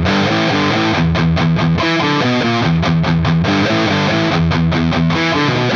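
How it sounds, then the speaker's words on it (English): Distorted electric guitar power chords in metal, a loud steady chugging riff with rhythmic palm-muted bursts and chord changes, played close with no voices. "Now, if you had to do that with power chords, it would sound like this"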